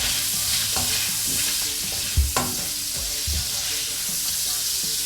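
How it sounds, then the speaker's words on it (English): A pan of couscous being cooked sizzles steadily while a utensil stirs and scrapes, with a couple of louder knocks against the pan, close and with no talk. "So it's time to give this a stir."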